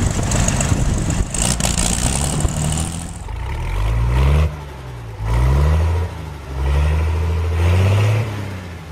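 An antique tractor is started with its starter, cranking briefly before the engine catches, then runs loud and close with rhythmic revving that rises and falls several times.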